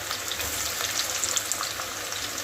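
Onion sizzles in a generous amount of hot oil for prawn pulao, an even, dense crackle with small pops, close and steady throughout.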